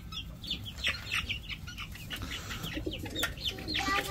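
Young chicks are fed a homemade feed and cluck and cheep in soft, overlapping calls, fairly close over a low steady background hum, with no one speaking.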